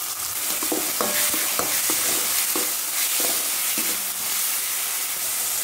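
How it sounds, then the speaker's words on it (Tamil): Ginger garlic paste mixed with a few mint leaves sautéing in a pan, giving a continuous loud sizzle with hissing steam and several clinking, scraping stirs, close up. "இஞ்சி பூண்டு பேஸ்ட் சேர்த்து கொஞ்ச நேரம் வதக்கிட்டு"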